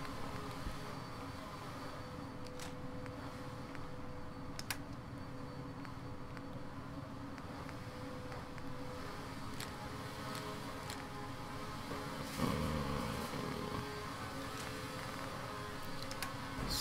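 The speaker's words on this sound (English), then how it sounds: "I don't know why they just picked the vacuum now." A steady, faint mechanical drone of a vacuum cleaner runs in the background throughout, constant and unchanging, with occasional small clicks and a brief louder patch near the end.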